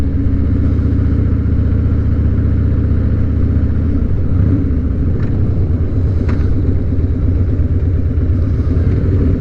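A Harley motorcycle engine runs close and loud with a continuous, throbbing idle rumble, with a slight shift in pitch midway through and no talking.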